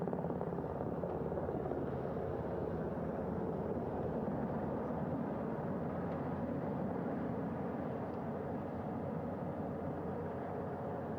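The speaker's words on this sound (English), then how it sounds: "The first helicopter coming in." A helicopter landing on a ship's flight deck at the Artemis II crew recovery, its steady, heavy rotor roar filling the air continuously, loud and close, with a broad rumbling drone and no voices.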